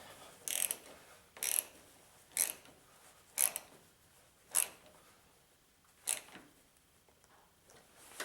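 Ratchet clicking in short bursts while snugging down the air filter housing on a 3.5 liter G6, about seven separate crisp ratcheting bursts spaced roughly a second apart, close and fairly quiet with no talking.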